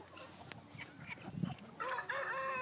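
Chickens on a farm cluck and crow at close range, a series of short squawks and clucks building into a louder drawn-out crowing call near the end.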